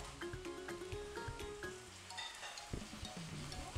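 Chopped tomato dropped into a hot frying pan for a vegetable kurma, giving a steady close sizzle with stirring clatter and small scraping knocks throughout.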